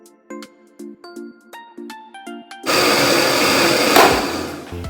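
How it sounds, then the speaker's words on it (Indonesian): A blender motor roars steadily into a dense grinding whir, blending shrimp paste and spices into a laksa paste, after a series of short tonal beeps or taps, loud and close. "dan kita blender sampai halus."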